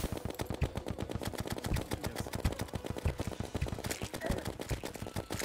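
Rapid, evenly spaced gunshots from a gun in Terraria, a continuous machine-gun-like patter of crisp reports lasting several seconds, steady and moderately loud.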